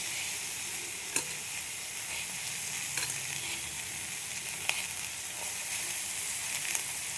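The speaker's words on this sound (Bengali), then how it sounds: "কপি যেগুলো ভেজে রাখলাম, আর দিয়ে দেবো মটরশুঁটি। একটু কষিয়ে নেব।" Fried cauliflower and peas being sautéed in a pan give a steady, gentle sizzle, with a few faint scrapes and taps of a spoon against the pan.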